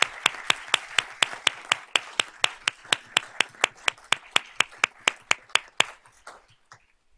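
Audience at a school board of trustees meeting applauding student award winners, scattered hand claps in a steady rhythm that thins out and stops after about six seconds.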